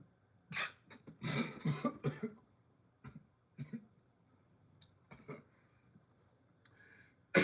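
Several sharp coughs burst out in a quick cluster, then a few scattered single coughs follow in an otherwise quiet room.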